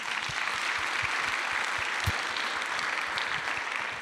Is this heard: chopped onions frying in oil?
no